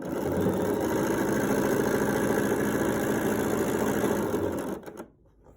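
A sewing machine runs steadily for about five seconds while back stitching a quilt border panel, a loud continuous motor whir with rapid needle chatter, then cuts off abruptly into near silence.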